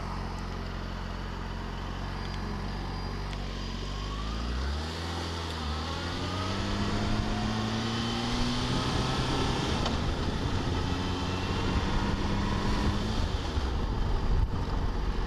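Motorcycle engine sound while riding, with a rising whine as the rider shifts up through gears and accelerates, then a steady roar mixed with wind rush. The sound is loud and continuous, and no one speaks.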